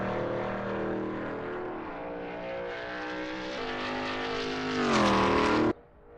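Veloce GTS-8 race cars in a racing game at Watkins Glen Short, a loud, close engine drone that holds steady and climbs in pitch before cutting off sharply near the end.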